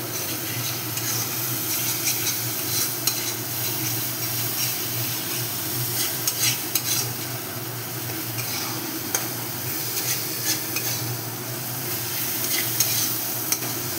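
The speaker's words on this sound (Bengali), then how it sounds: "এই মশলাটা আরও কিছুক্ষণ বসিয়ে দেবো, যতক্ষণ মশলা থেকে তেল না ছাড়বে" Ginger-powder spice masala fries and is stirred in a pan for a soybean curry, giving a steady, close sizzle with repeated scraping stir strokes and no talking.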